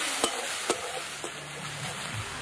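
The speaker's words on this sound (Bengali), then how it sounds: "কুচনো পেঁয়াজ, লবণ দিয়ে এবার ভালো করে পেঁয়াজটাকে ভেজে নিতে হবে।" Chopped onion with salt sizzling softly in a pan of oil tempered with cumin, bay leaf and dried chilli, with a few light scrapes of stirring, steady and close, for Bengali aloo kosha.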